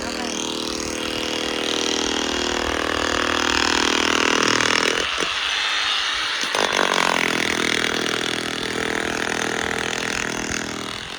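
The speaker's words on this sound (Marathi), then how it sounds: "ते दगड फोडतं, दगड, ती मशीन आहे दगड फोडायची." A loud stone-breaking machine engine runs steadily with a grinding drone, briefly dropping and shifting pitch midway before resuming its heavy, continuous roar.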